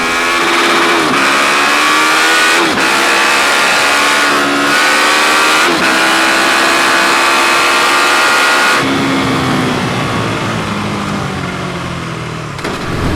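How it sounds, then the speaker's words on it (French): A KTM Super Duke 1290 R motorcycle accelerating hard on the road: a loud, close engine roars through rising revs with brief drops at gear shifts, then settles into steady running near the end, with no one speaking. "Nous voici à bord de la KTM Super Duke 1290 R."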